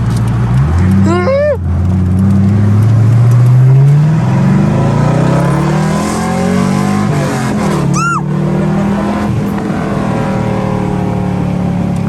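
A car engine hums and shifts pitch as it drives at about 20 miles per hour, with people talking over it and squeaky sounds at a couple of moments.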